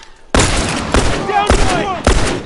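Rifle gunfire in the video game The Last of Us Factions: three loud, sharp shots spaced roughly evenly, each with a booming tail, over continuous background game noise.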